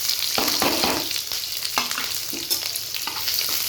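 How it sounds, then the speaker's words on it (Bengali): Onions and chillies frying in hot oil with panch phoron for a sweet-sour mango bhaji, a steady close sizzle with several scraping stirs of a spoon against the pan. "তারপরে পেঁয়াজ আর লঙ্কা কাটানো দিয়ে দেব।"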